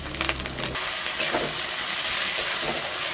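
Water poured into a pan of tomato masala with ginger, cumin paste and green chilli paste, cooking for chicken kalia; after a brief louder splash at the start, a steady broadband sizzle and steam hiss continues alone.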